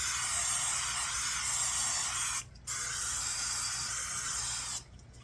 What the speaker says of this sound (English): First thing you want to do is spray your pans with some cooking spray